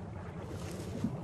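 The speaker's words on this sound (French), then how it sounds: "Et vous là-bas, stoppez le moteur." A boat motor drones steadily on an overloaded passenger boat on the river at Mopti, Mali, a low continuous rumble mixed with outdoor wind and water noise.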